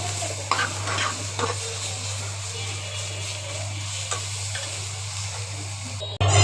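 Onion frying lightly in oil for a bhorta, a steady close sizzle with occasional stirring scrapes and a low hum, ending in a brief loud bump.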